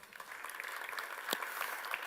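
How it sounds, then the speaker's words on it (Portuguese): Applause from an audience at a health technology innovation forum, a thin, fairly faint spatter of clapping heard from a distance, with a few sharper claps standing out over about two seconds. "Uma salva de palmas, por favor."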